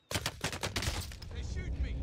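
Rapid bursts of gunfire in a video game combat scene, a string of sharp close shots through the first second followed by a denser, rumbling stretch of fire and noise.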